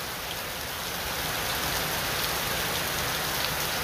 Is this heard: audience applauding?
no